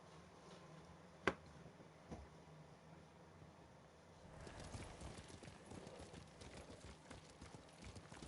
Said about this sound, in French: Tu es un bon cheval.